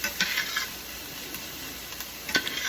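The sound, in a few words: onions starting to cook in a pan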